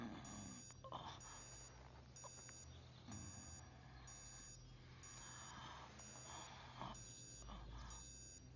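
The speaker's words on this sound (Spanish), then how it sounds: "Apaga ese maldito despertador," A bedside alarm clock beeps in a fast, regular electronic pattern throughout, fairly faint and steady against a noisy room background.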